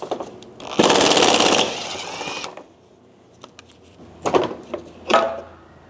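A powered ratchet tool whirs out a 10 mm bolt from a 2012–2016 Subaru Impreza headlight assembly. It gives one loud, close burst of about two seconds, then short clicks and rattles follow.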